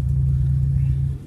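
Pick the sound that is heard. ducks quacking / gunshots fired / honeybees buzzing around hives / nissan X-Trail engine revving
nissan X-Trail engine revving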